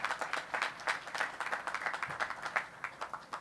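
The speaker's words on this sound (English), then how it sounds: "let's give them a round of applause" Applause from a crowd at a ship christening ceremony for the Bay State at NASSCO, steady rapid clapping heard from a distance, moderately faint, with some light cheering in the mix.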